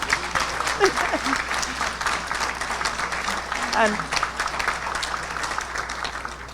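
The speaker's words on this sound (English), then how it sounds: "A round of applause for our president" Audience applause at the investiture ceremony of a university president at Galen University, steady broadband clapping throughout with a few brief voices and exclamations rising over it.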